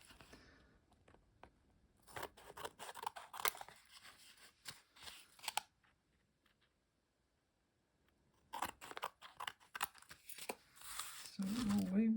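Scissors cutting glued paper in a craft project, bursts of crisp snipping and paper rustling in two clusters separated by a quiet pause, with a brief voice at the end.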